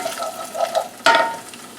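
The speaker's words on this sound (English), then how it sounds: "And continuously stir all that as you go." Pepper being stirred into cooking ingredients for a Chicago-style deep dish, with soft scraping and stirring at first, then a brief sharper sizzle and clatter partway through, close and moderately loud.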